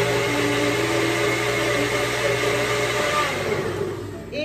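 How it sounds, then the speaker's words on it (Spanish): A blender whirs steadily at full speed, blending aloe vera and cucumber without water, its motor droning loudly before slowing slightly near the end. "Lo meten todo en la licuadora sin agua"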